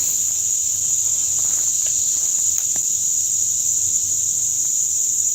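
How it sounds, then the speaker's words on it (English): Cicadas buzzing outdoors beside a river, a loud, steady, high-pitched drone that holds without a break, with faint low rustle beneath and no talking. "Yeah, it's probably cicadas."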